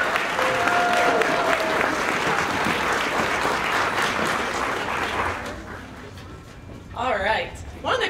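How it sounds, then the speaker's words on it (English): Elementary school band receives enthusiastic crowd applause at a spring concert, loud steady clapping that thins and fades toward the end as voices rise briefly. "applause for the band as well."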